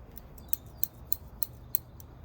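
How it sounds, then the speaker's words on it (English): Worn, gritty scissors snip five or six times in a quick, even rhythm while trimming a cottonwood cutting for repotting, each cut a short, sharp, gritty click against a quiet background. "It sounds like it's making the condition of these scissors worse."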